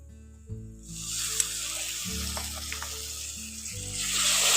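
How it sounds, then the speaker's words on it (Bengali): Green chili and cumin paste fry with onion in a pan, giving a loud, continuous sizzle that swells toward the end over low, steady humming tones. "কাঁচা লঙ্কা জিরে বাটাটা দিয়ে পেঁয়াজের সঙ্গে একটু ভালো করে একটু কষিয়ে নিচ্ছি"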